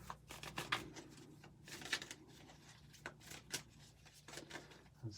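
Tarot cards being shuffled up close, a series of quiet riffling and sliding bursts repeating irregularly over several seconds in a quiet room.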